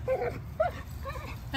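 Dogs in a group whimper and give short yips, a few soft nearby calls scattered over a low background murmur.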